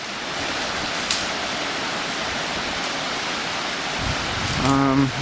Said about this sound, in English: He's just trying to show me the face of this waterfall down in there.